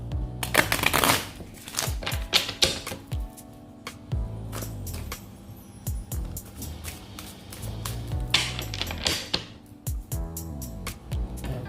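Tarot cards being shuffled up close in repeated riffling bursts with papery flicks and taps between them, mostly without talking.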